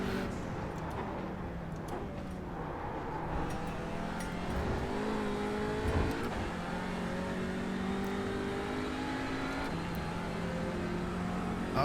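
Audi RS3 LMS TCR race car in iRacing at Lime Rock Park, engine droning and revving steadily through a corner with gear changes, close and continuous, no talk.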